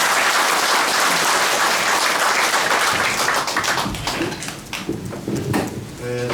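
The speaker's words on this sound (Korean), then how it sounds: "나오실 때 큰 박수 부탁드리겠습니다" Crowd at a Korean election campaign office opening applauding as a party official comes forward, loud sustained clapping that thins toward the end, with talk and shuffling mixed in.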